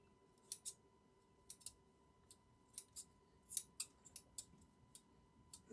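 Scissors trim the loose ends on a handmade Christmas craft gnome, a string of quiet, close snips in irregular bursts against a faint background hum.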